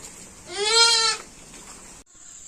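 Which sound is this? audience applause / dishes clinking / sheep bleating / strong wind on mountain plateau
sheep bleating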